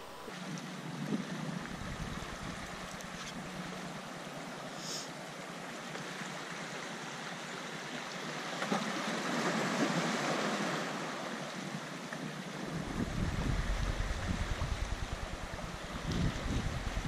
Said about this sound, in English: It's been kind of fun to watch the water like come pouring in